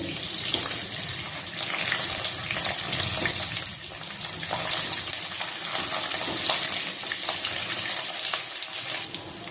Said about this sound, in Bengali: মাছের ডিমটা এক পাশ হয়ে গেছে, পরের পাশটাও আমি ভেজে নেব উল্টে পাল্টে।